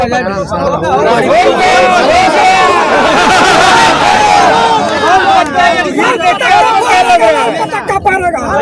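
Dense crowd chatter at a political rally in Bihar: a loud, continuous babble of many voices close around, with individual shouts rising out of the steady hubbub.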